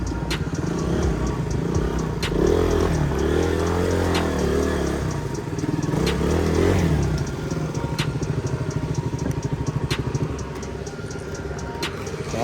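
Several motorcycles wait in ready position before a group Saturday ride, their engines idling and revving together in a steady, loud, close drone with rhythmic pulsing.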